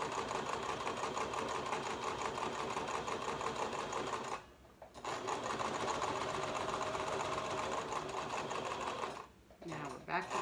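Sewing machine stitching a pleated medical mask with elastic, a loud continuous rapid whir running for several seconds, breaking off briefly twice for backstitching at the corners before resuming; a voice talks over it.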